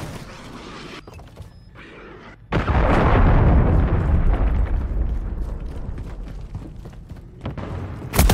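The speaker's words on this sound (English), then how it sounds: "Hostiles launched your cruise missile." A Call of Duty: Modern Warfare III cruise missile strike lands as a sudden heavy explosion. A long, loud rumbling roar follows it and slowly fades, with a fresh burst right at the end.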